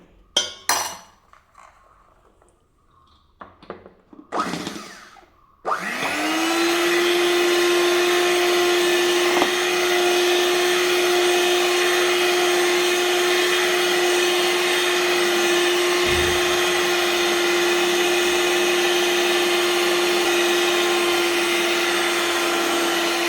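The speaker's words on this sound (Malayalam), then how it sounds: "കുറേശ്ശെ പഞ്ചസാര ഇട്ട് കൊടുത്ത് ഇത് ബീറ്റ് ചെയ്തെടുക്കണം" Electric beater beating powdered sugar in a bowl: a few clinks and knocks first, then the motor starts with a rising whine and runs as a steady loud drone to the end.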